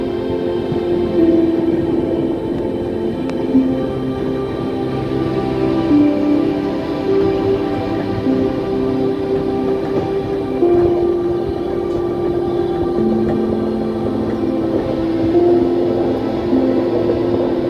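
Inside the compartment of a train running through forest in North Bengal, a loud, steady rumble of wheels and carriage fills the air with an unbroken drone and faint rhythmic rattling, and no voices.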